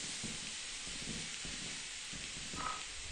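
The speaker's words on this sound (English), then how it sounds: "Ooh, steam." Steam hissing in the Lethal Company video game: a steady, broad hiss holding for about three seconds with a faint whistle-like tone near the end, alone with no talk.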